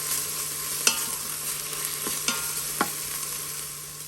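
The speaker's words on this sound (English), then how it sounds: "The Instant Pot has indicated that it's time to stop sauteing." Chopped onions sautéing in an Instant Pot, a steady broadband sizzle with a few sharp utensil clicks and scrapes of stirring spaced through it, close and moderately loud with no voices.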